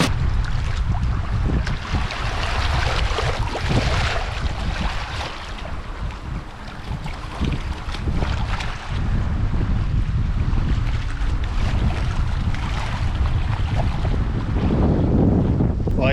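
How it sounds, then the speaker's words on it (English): Strong wind roars across a camping spot on Crown land, a loud continuous gusting rumble battering the microphone throughout, with no talk. "The wind is even worse than it was earlier"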